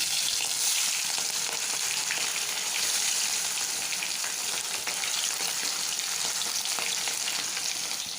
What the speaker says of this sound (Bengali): কড়াইতে তেল দিয়ে দিয়েছি তেলটা গরম হয়ে গেছে এখন আমি মাছগুলো একটু ভেজে নেব